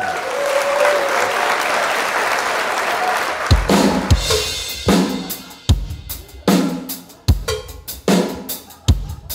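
Festival crowd of thousands applauds to welcome a Munich band onto the stage; dense clapping fades out as sharp, rhythmic drum hits begin and repeat.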